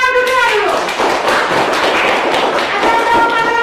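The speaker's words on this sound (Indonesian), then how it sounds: "Oke, tepuk tangan dulu." Classroom of students clapping hands together, a dense burst of claps lasting a few seconds, loud and close, with some voices mixed in.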